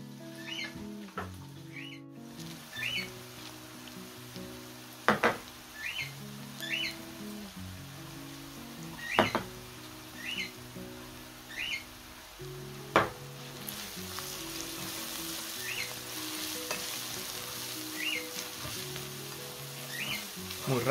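Spices and paprika fry in a pan with a steady, soft sizzle throughout, broken by a few sharp clinks of a utensil; faint birdsong chirps sound in the background and no one speaks.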